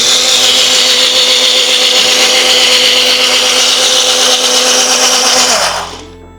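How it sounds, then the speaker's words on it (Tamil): A kitchen blender grinds beetroot with cumin, lemon juice and water, a loud steady whirring roar running continuously before the motor switches off and spins down at the end. "கொஞ்சம் நீர் சேர்த்து அரைச்சிடலாம்."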